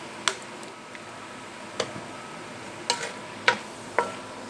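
Macaroni tossed with garlic sauce and soy sauce, stirred in a pan: a handful of sharp, sparse clicks and taps of a utensil against the pan over a faint, steady low sizzle, with no voices.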